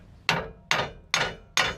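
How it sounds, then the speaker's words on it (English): A heavy lump hammer strikes a seized torsion bar key on a 2005 Chevy Avalanche suspension, four loud, sharp metallic blows spaced evenly about 0.4 seconds apart, each ringing briefly, up close and with no talk. "So that's where the heavy lump hammer comes in."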